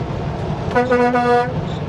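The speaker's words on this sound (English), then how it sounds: "He honked, I have to honk back." A single loud truck horn blast of under a second sounds over low road rumble, with nobody talking.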